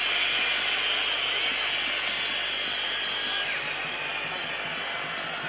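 A stadium crowd at the 1985 UEFA Cup Final between Videoton and Real Madrid roars steadily from a distance, with shrill sliding whistles rising over the constant hiss of noise.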